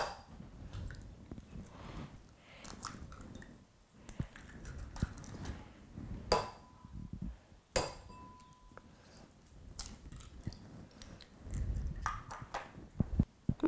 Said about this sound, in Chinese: 咁我哋而家就嚟打蛋。